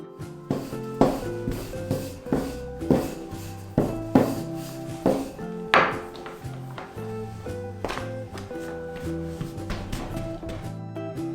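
Dough for potato and scallion flatbread being rolled out thin with a wooden rolling pin, about a dozen rhythmic rubbing strokes close by, with steady background music underneath.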